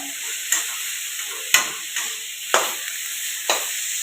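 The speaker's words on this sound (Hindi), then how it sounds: "पहले मैं पत्ता गोभी को थोड़ा सा मैं भून ले रही हूँ" Cabbage is stir-fried in a pan with a constant close sizzle, punctuated by four regular sharp scrapes of a spatula about a second apart.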